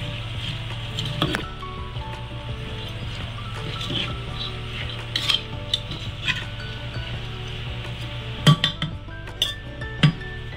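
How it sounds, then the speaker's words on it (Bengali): Lentils being mixed by hand or spoon with chopped onion, ginger, green chilli and garlic, giving steady soft squishing and stirring with scattered clinks of utensils against a pot over a constant low hum, with no talking. "দিয়ে এইগুলোকে আমি ভালো করে মাখিয়ে নিচ্ছি ডালের সাথে।"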